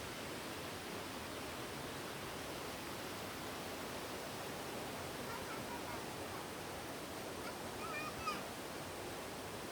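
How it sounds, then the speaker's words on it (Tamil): A river near Baripada rushes with a steady, even roar like a waterfall, holding constant throughout without talking. "இந்த நதியோட சத்தமே நல்ல ஒரு அருவியோட சத்தம் மாதிரி இருக்கு."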